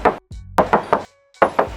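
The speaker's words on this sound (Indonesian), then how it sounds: "Kita coba tes ketok ya." Knuckles rap on the metal bonnet of a Suzuki Ignis GX, giving sharp hollow knocks in quick clusters of about eight raps with brief pauses between them, close and loud with no talk.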